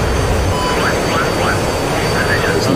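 Loud, steady roar inside a helicopter cockpit with the canopy off in the DCS World flight sim, a constant broadband rush of wind and engine noise filling the whole clip with faint whining tones above it.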